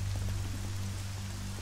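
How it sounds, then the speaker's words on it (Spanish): Rain pours steadily in the survival game SCUM, a dense, even patter of drops that holds at the same loudness from start to finish, with no talk over it. "Lo bueno es que está lloviendo y no me escuchan."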